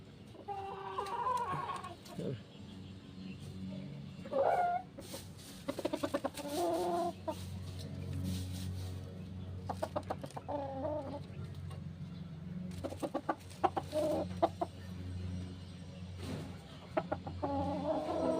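Chickens cluck and squawk in scattered bursts close by, with sharper calls breaking through over a low background hum.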